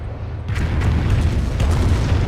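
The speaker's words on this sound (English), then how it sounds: "Another barrage coming in." An artillery barrage in Company of Heroes, heavy, deep rumbling explosions that begin abruptly and roll on continuously as a loud, overlapping boom.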